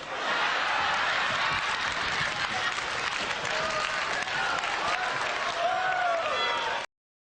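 A crowd at a live comedy-style talk claps and laughs, a dense, sustained roar of hands lasting several seconds, loud and full, with scattered voices and chuckles inside it before it cuts off abruptly.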